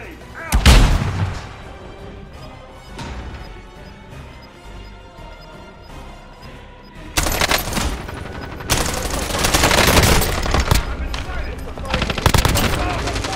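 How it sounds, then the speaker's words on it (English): Explosions and bursts of gunfire from a precision airstrike in the Call of Duty video game, with a loud blast early on, then heavy rolling detonations and rapid shots building in the second half, with voices talking over parts of it. "I might not make it because of the precision airstrike."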